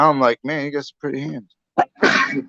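One short, sharp sneeze bursts out between stretches of someone talking casually nearby.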